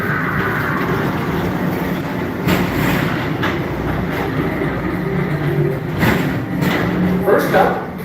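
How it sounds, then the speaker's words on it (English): A Magic Kingdom ride train rolls along its track with steady rumbling and faint clicking from the rails, while a voice narrates over the ride. "your express train keeps on rolling through the future"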